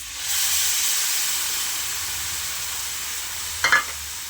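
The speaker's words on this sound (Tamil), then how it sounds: "இப்போ வந்து நம்ம இஞ்சி பூண்டு பேஸ்ட் வந்து அதில் போட போகிறோம்." Ginger garlic paste hits hot sesame oil with a steady broadband sizzle and hiss from a pan, continuous and fairly close, with a brief louder spatter burst near the end; no voices.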